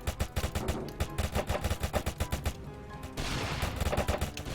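Rapid gunfire in a shooting video game rattles in dense, evenly spaced bursts, loud and close, with only a brief lull before firing resumes.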